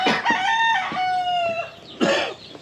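A rooster crows loudly nearby in a chicken coop, a long drawn-out call, followed by a second crow starting toward the end.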